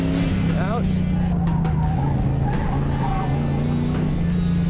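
A drift car accelerating hard through a long bend, its engine droning loud and steady with pitch shifts as revs change, while a voice talks over it.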